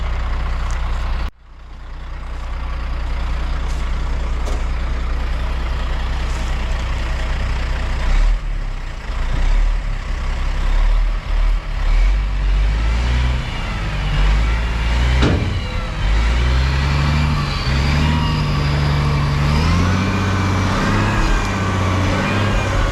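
A heavy dump truck engine rumbles loudly and steadily, close by, revving and shifting pitch as it works on a gravel grading job, with a few clanks and a hiss of air brakes.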